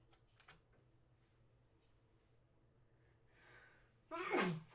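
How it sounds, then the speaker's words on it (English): A single loud sneeze bursts out near the end after quiet shuffling and faint background noise. "Sorry, I had to sneeze."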